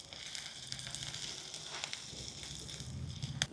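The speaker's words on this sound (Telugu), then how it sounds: "వెల్లుల్లి పోపుకి వేసేస్తున్నాను డైరెక్ట్" About ten pieces of small garlic hit hot tempering oil for a spinach curry, giving a steady, close crackling sizzle with scattered pops throughout and no talking.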